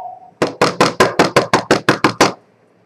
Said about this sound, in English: I'm knocking at the door again